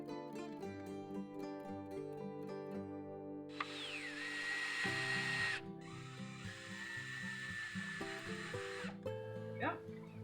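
A power drill with a Phillips screwdriver bit whirs in two sustained bursts, driving screws into a pre-drilled pallet wood block, loud and close over soft background music.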